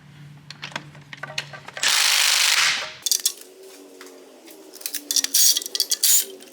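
Work on bolts near the turbo of a third-generation Dodge Ram with a Cummins diesel: quick metallic tool clicks and clanks, a loud whirring power-tool burst lasting about a second, then more rapid clattering ratchet-like bursts.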